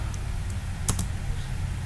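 Typing a terminal command on a computer keyboard while configuring SSH on Debian 8: two or three sharp, close key clicks over steady background hum.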